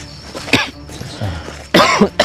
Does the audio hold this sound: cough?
yes